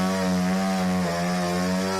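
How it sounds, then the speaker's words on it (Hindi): An electric saw cuts through fallen trees blocking a road, giving a loud, steady, droning whine that holds continuously with a brief dip in pitch midway. "इलेक्ट्रिक आरी की मदद से पेड़ों को काटकर रास्ते"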